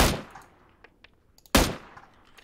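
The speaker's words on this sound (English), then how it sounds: "Yeah, he's shooting me." Two loud, close gun blasts in the PUBG battle royale game, each with a long decaying echo, separated by faint scattered clicks and small distant shots.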